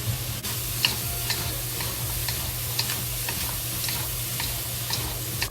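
Sliced ham and celery sizzle steadily in a hot wok as a spatula stirs them, with a constant frying hiss and light regular clicks of the utensil against the pan, close and alone with no voices.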